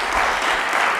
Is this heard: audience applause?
yes